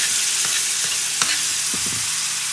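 Sausage and garlic fry in a pan with a loud, steady sizzle, broken by a few scraping clinks as the pieces are stirred.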